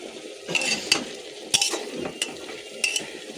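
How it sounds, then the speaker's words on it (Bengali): Meat cooking down in a pan with spices, stirred in short scraping strokes that cut through a low sizzle, each stroke a sharp metallic clatter close by. "মাংসটা কষা হচ্ছে, মাংসটা ভালোই হয়েছে কষা।"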